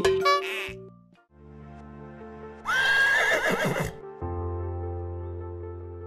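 A horse gives a loud, shrill whinny in the middle, set against layered music with a brief gap near the start.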